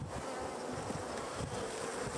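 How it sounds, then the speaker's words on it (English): Honeybees in an opened hive buzz in a dense, continuous drone, close and steady throughout, agitated by the disturbance. "you hear the bees getting agitated"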